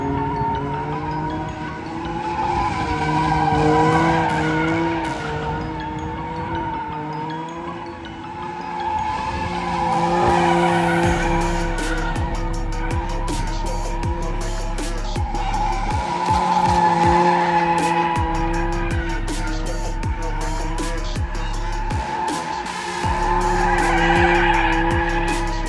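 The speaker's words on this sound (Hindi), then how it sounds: "क्या ड्रिफ्ट आई है" A Lamborghini Huracan Evo drifts on a track with long, loud, sustained tire squeal over a roaring engine, rising and falling in waves with sharp crackles for about twenty-five seconds.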